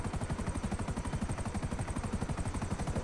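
A helicopter in GTA 5 Online thrums steadily with a fast, even rotor chop, loud and close, holding throughout with no voices over it.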